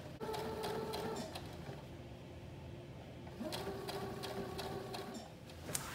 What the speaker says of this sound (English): try not to stretch the fabric as you sew